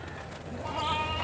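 A goat bleats amid the steady background bustle of a crowded goat market, the call rising clearly over the din toward the end.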